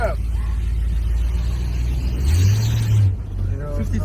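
A 55-year-old car's engine revving hard as it accelerates, a loud low roar that swells and then drops, with people talking over it.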